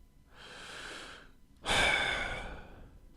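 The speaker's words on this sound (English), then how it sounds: "Take a deep breath in and let it out." A slow, deep breath drawn in, a short pause, then a louder, longer exhale, heard alone and close up.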